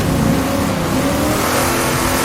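A race car engine in Assetto Corsa at Mont-Tremblant revs loudly and steadily at high pitch. A continuous, near, full-throttle drone fills the whole stretch, with no voices over it.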